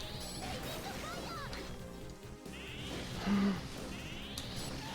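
Sheep bleats in the video game Arcanum sound over a busy, noisy game soundscape, with bursts of clatter and effects; no talking.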